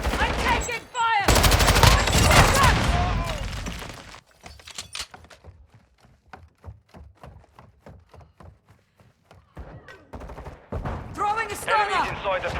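Gunfire rattles through a Call of Duty Modern Warfare II Warzone match: a long, loud burst at the start, then a run of separate shots, then more heavy fire at the end, with voices talking over parts of it.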